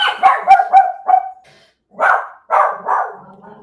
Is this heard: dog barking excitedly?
yes